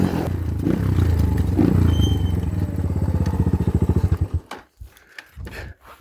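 A dirt bike engine idles with a steady low rumble, then sputters in rapid pulses and cuts out, leaving brief quiet clatter.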